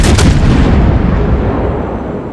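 Heavy naval gunfire in World of Warships, a loud booming salvo that hits at once and then rolls away in a long, low rumble with no speech over it.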